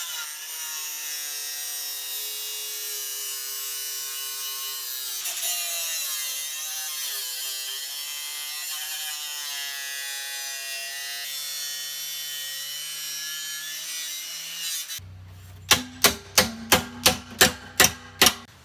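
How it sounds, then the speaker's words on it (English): Angle grinder cutting away the metal pipes of an upcycled wood burning stove, a long sustained harsh whine with a steady loud grind, followed by a series of sharp regular metallic clanks near the end. "Okay, we're at the halfway stage of the grinding."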